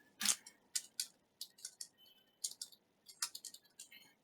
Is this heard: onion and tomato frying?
no